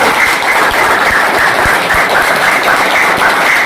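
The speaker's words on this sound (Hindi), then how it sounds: "इसके लिए इनके लिए एक बार जोरदार क्लैपिंग होनी चाहिए।" A live show audience applauds loudly and steadily throughout, a dense sustained wash of many hands clapping with no talk over it.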